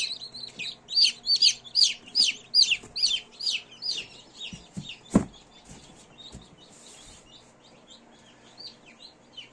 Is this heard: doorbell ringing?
no